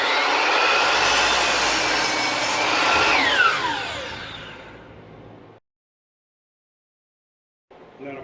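A miter saw cuts wood for a raised garden bed, giving a loud whining buzz that winds down over a couple of seconds. Then there is silence, and a brief sound comes back at the very end.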